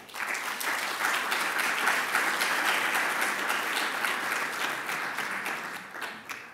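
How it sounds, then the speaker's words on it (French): Conference audience applauds the energy company Engie, a dense, sustained wash of clapping from a large hall that holds steady throughout and tapers slightly at the end. "je crois que Engie mérite quelques applaudissements de notre part"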